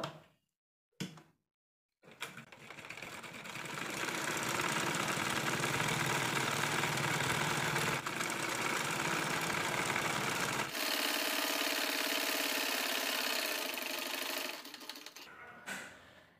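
Sewing machine runs a long straight seam of long stitches on nighty fabric, a steady close mechanical whir for about twelve seconds, preceded by short clicks and briefly pausing partway.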